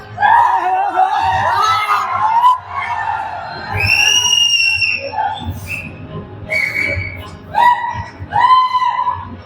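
Crowd noise in a packed cinema hall, with loud whistles, whoops and shouting rising in bursts over a steady roar, people talking close by.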